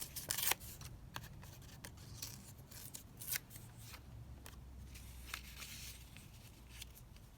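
Paper being torn by hand for a junk journal, a series of quick dry rips and rustles at close range, with a few sharper tears standing out and no talking.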